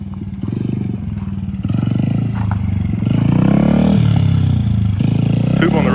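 A 2005 Honda CRF80 dirt bike engine idles with a steady putter, then revs up and down in rising and falling sweeps, with voices calling out over it.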